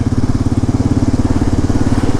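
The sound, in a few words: KLR 650 motorcycle engine while riding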